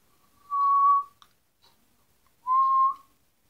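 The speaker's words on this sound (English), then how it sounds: "I think it's very, very, very easy to fall back into the pucker whistle, which would look like this." A pucker mouth whistle sounds two clear, steady tones, each held about half a second with a short pause between them, loud and close with nothing else around.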